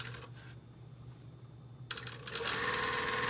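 A sewing machine stitches a double welt pocket onto its triangle tack. After a quieter, hum-filled stretch, a rapid, louder mechanical rattle starts midway and builds until the end, with no talking.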